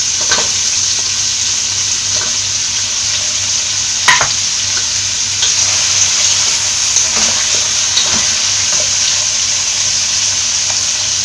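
Sliced onions and potatoes fry in hot oil for Kerala Kottayam-style chicken biryani, a loud, steady, dense sizzle throughout with occasional soft clicks and stirring knocks.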